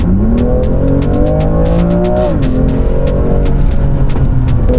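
A car on the Le Vigeant race circuit accelerating hard, the engine roaring up through the revs with a brief dip at a gear change before climbing again, loud and close as if from inside the cabin, with no voices.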